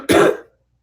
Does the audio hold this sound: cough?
yes